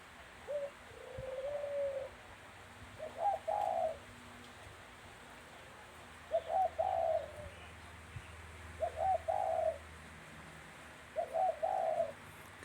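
A captive dove held in a decoy cage coos in short, repeated phrases, five or six bursts spaced a second or two apart, moderately near against quiet outdoor background.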